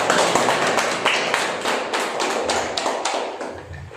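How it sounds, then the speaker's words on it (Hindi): Church congregation in a Sunday evening service claps loudly in praise, a dense burst of hand claps with irregular sharp hits that gradually thins out. "क्यों ना हम जोरदार तालियां दें परमेश्वर को।"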